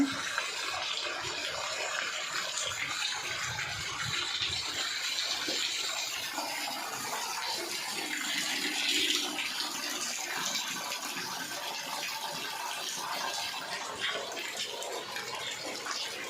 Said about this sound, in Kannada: ನೋಡಿ ಹೊಲ್ದೊಳಗೆಲ್ಲ ಎಷ್ಟೊಂದು ನೀರು ತುಂಬಿದೆ ಅಂತ